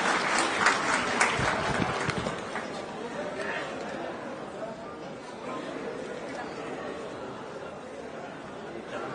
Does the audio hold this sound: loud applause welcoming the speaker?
yes